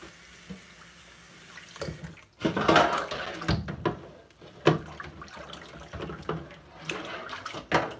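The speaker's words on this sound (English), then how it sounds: "I'm going to fill up a whole bunch of jars with water for Willem so he doesn't buy plastic." Tap water runs into glass jars in a home, pouring in uneven bursts with pauses between fills, plus light clinks and handling noises close by.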